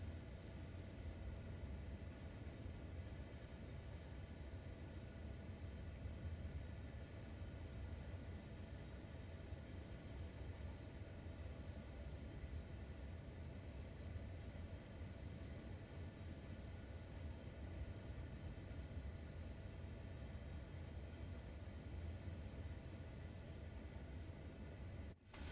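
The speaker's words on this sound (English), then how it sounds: "There's another CSX train on the main line, I think, passing by the yard." A CSX freight train rolls past a rail yard on the main line in Train Sim World 2, a steady low rumble holding at an even level for the whole stretch with no talk over it.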